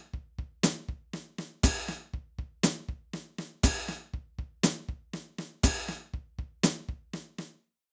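Metronome-style percussive clicks from the PolyNome app play paradiddles as straight sixteenth notes, a steady even stream of sharp hits with regularly accented strokes, alone and clear.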